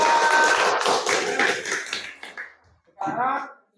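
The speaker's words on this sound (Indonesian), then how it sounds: "Tepuk tangan dulu untuk kelompok 2." Students in a classroom clapping for group 2 after their discussion presentation, a short dense burst of applause that tapers off, followed by a teacher's voice speaking.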